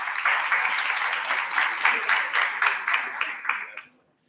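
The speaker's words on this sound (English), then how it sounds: "Let's please give him a round of applause" An audience at a Radio Thought Leadership session on UNESCO World Radio Day applauds a panelist. Steady crowd clapping with a few sharper accents lasts about four seconds, then stops abruptly into silence.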